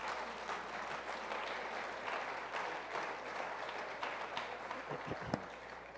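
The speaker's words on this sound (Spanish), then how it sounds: "Dale un aplauso al Señor entonces" Congregation applauding in a church, a steady wash of many hands clapping at moderate distance, sustained throughout with a brief thump near the end.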